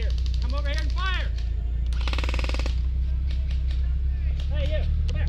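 Airsoft guns fire a rapid burst of shots during an outdoor airsoft game, cutting across loud shouting voices over a constant heavy rumble.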